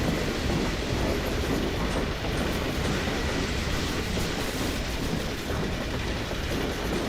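A train rolls past in the video game Half-Life 2, a loud, steady roar with rattling, clattering wheels sustained throughout, with no talk over it.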